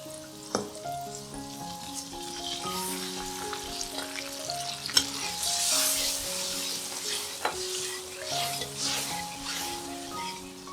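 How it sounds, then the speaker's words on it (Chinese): Fried chili stirred with poured soy milk in a pan gives a soft bubbling sizzle and scraping spatula strokes, with background music playing throughout. "炒香后倒入豆奶，搅拌均匀。"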